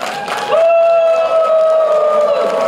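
A crowd of students at a campus event in Russia applauds and cheers, with a sustained whooping cry rising above the clapping and crowd noise for most of the stretch.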